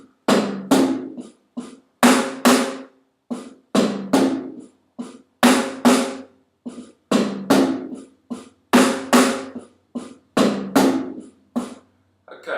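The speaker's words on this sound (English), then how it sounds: "What we're going to do is we're going to move the accent pattern to these 2 toms." Moeller accent pairs played on a snare drum and two toms, slow and even, with grouped strokes of accented hits and quieter taps repeating in a steady pattern, close and clear with no talking.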